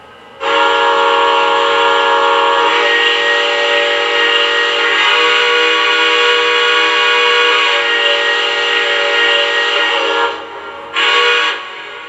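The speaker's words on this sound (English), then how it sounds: "here we go with the whistle" A Lionel Legacy AT&SF 4-8-4 Northern model steam locomotive sounds its whistle, a loud steady chime held for about ten seconds, then a short second blast after a brief gap, with no talk.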